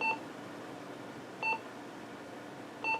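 Three short electronic beeps from a Maxtrac radio, spaced about a second and a half apart, clear and moderately loud over a faint background hiss.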